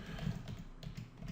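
Quiet, close tapping of keys on a computer keyboard as a Linux terminal command is typed, a short run of soft irregular clicks over low background hum with no talk.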